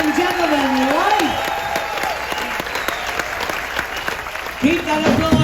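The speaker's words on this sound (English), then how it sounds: "Keep that applause coming for this amazing cast" Steady audience applause for a show cast in a cruise ship theater aboard Celebrity Summit, sustained and fairly loud throughout, with a voice and faint music tones riding over the clapping.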